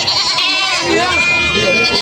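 Goats bleat in a noisy crowd in Padre Garcia, Batangas, overlapping cries close by with people talking throughout.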